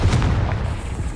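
A Confringo explosive spell going off in Hogwarts Legacy, a short, dense low boom with a rumbling burst that fills the brief moment on its own.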